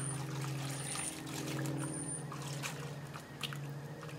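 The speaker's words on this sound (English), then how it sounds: "I soak it or rinse it in semi-clean and clear water." Water trickles and pours steadily as a coyote hide is rinsed in clear water, a continuous close splashing flow with a low hum underneath.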